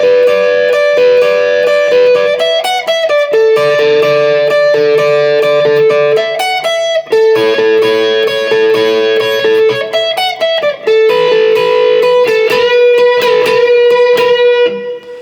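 An overdriven electric guitar plays the intro to a song, loud and continuous melodic lines with bends and slides over sustained distorted notes, two phrases running back to back.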